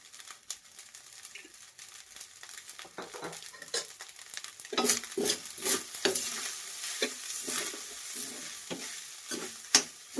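Veg fried rice with black pepper powder and soy sauce is stir-fried, with a soft sizzle under scraping and tossing from a spoon or spatula. The stirring is sparse at first, then turns to steady rhythmic scrapes, close by and with no talk.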